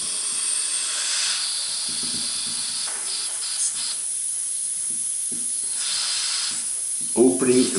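A homemade rotary valve compressed-air engine runs with a steady, close hiss of escaping air that pulses softly in rhythm, with faint mechanical ticking and a short louder clatter near the end.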